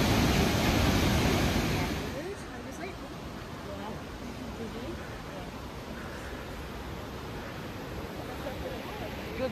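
Roaring rush of Bow Falls in Banff, a steady broadband wash of water that is loudest for the first two seconds and then settles into a constant, slightly softer roar.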